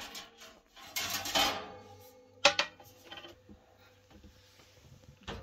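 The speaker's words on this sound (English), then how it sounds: "First, remove anything in the oven, pots or pans." Pots and pans being cleared out of a Suburban RV oven: a few clattering metal knocks and scrapes in separate bursts, with quieter rattling between them, close by.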